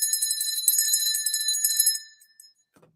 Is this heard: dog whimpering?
no